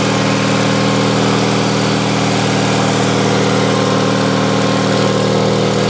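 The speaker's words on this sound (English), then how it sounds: "Make sure it's running on both cylinders." A cold 16HP Onan twin-cylinder engine idles steadily on a Sears Suburban SS16 garden tractor in winter, a continuous loud, even rumble with a low throb that holds unchanged throughout, no talking.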